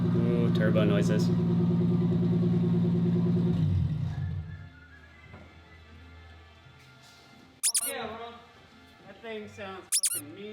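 A straight-piped, turbocharged 1JZ engine in a Toyota Soarer warms up with a loud, steady idle rumble for the first few seconds, then settles lower. Short, sharp turbo whooshes and flutters burst out twice near the end.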